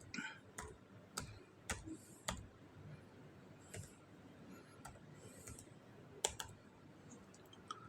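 Someone types the ipconfig command on a computer keyboard, sparse, separate key clicks at an irregular pace against quiet room background, with no talk over them.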